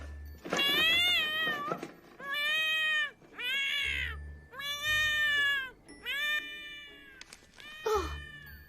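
Séraphina, a princess's pet cat in an animated film, meows loudly in a run of about six long, drawn-out cries with short gaps, close and clear, with a low musical hum underneath.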